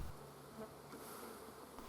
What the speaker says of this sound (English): I started shaking all the bees into the bottom brood super.